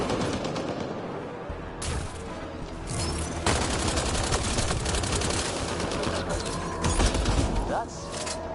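Gunfire in the sci-fi shooter Mass Effect Andromeda, with rapid bursts of automatic fire and crackling shots layered over a battle din and mixed with game voices.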